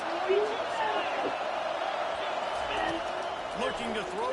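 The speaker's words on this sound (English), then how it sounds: "this crowd is tearing the lid off this place" A large stadium crowd at a college football game keeps up a loud, steady roar throughout, with a play-by-play announcer talking over it.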